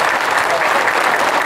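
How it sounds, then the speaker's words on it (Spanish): Audience applause at a labour law forum on the right to strike in Mexico: loud, dense clapping that fills the whole moment without a break. "Un aplauso al compañero doctor José Alfonso Bouzas."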